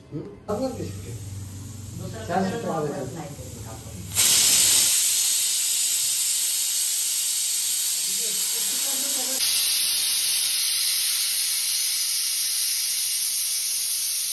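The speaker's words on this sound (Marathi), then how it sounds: "टोटल 4 शिट्ट्या आता होणार." A pressure cooker whistle cooking chicken masala bursts into a loud, sustained hissing jet of steam that runs unbroken for about ten seconds, after a stretch of talk in the kitchen.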